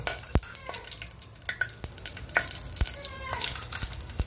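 Cumin seeds hit hot oil for a bhari baingan sabji, crackling in close, sharp pops and a light sizzle that comes in uneven bursts at a moderate level, with no talking.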